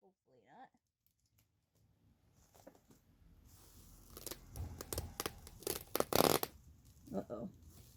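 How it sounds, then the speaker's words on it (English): A snack bag of Salem, Massachusetts goodies is torn open by hand, starting quietly and building to loud, close crinkling and ripping bursts of plastic, with a few faint voice sounds at the start. "Tore through the bag."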